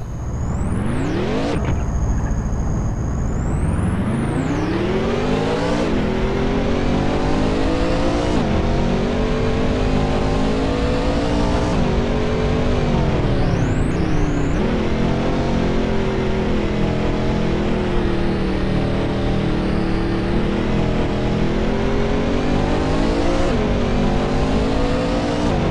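A light Car 8 TRB1 race car of about 1100 kg in TORCS, on the Corkscrew track, revs hard and steady throughout, its engine pitch rising and falling through gear changes, loud and close.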